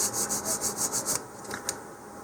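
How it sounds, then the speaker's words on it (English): Sandpaper rasps along the edge of a wooden model rocket fin in a quick run of about seven rhythmic strokes, followed by a few slower, isolated scrapes, close and fairly quiet. "for the root edge you can even just go take a piece of sandpaper and drag it over that just once or twice."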